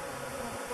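A swarm of newly hatched killer bees buzzes close by, a dense, continuous drone of many wings filling the air.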